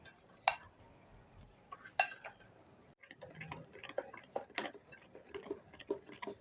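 Sugar and blended egg are mixed by hand in a bowl for a coffee cake, with sharp utensil clinks against the bowl and a quicker run of scraping taps later, close and fairly quiet.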